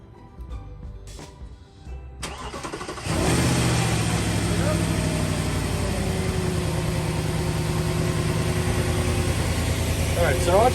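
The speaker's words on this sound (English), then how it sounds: "We're gonna start the car and make sure everything was done right." A 2007 Audi Q7 engine cranks and catches after a battery change, then settles into a steady, loud idle with a continuous low rumble close to the microphone, following a few seconds of quieter handling noises.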